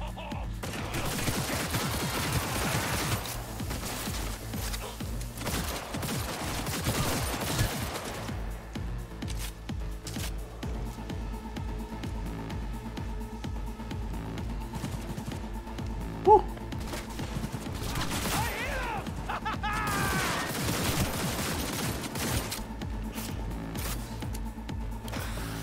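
Gunfire in the video game Cyberpunk 2077 on PS5, with dense bursts of rapid shots and crashing impacts in a firefight, loud and continuous with brief lulls between volleys.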